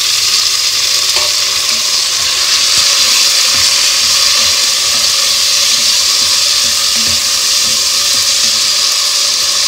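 Chopped tomatoes hit a pan of sautéed onions for a brinjal and mochai bean tamarind kuzhambu, giving a steady, loud, close sizzle that hisses on without pause, with a few faint clinks and stirring scrapes underneath.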